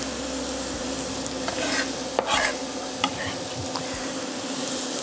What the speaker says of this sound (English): want to hear this sizzle